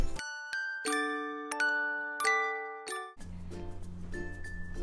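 A bright notification bell chime, several clear metallic dings ringing out one after another with long sustained tones, then cut off by a busier mix of other sounds toward the end.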